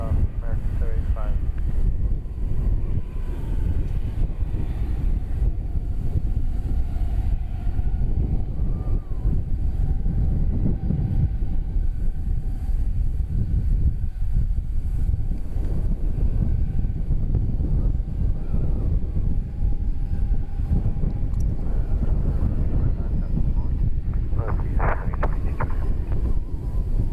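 An airliner takes off at night at DFW Airport, its broad jet roar rumbling steadily at a distance for the whole stretch, with wind buffeting the microphone and faint tones over the noise.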